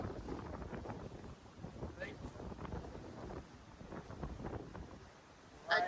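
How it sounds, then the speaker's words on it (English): Wind gusts buffet the microphone on a rocky stretch of the Mid North Coast, a steady low rumble that swells and eases for several seconds, ending in a louder closer gust. "looks like we found the wind again, Larry."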